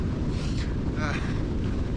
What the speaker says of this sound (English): it's very windy up here now